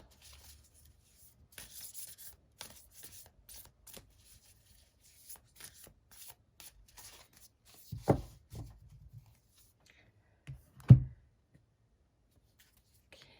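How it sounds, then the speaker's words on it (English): Soft papery rustling and sliding of tarot cards being shuffled in scattered bursts, quiet and close, with a couple of louder thumps near the end. "Let's give them a good shuffle."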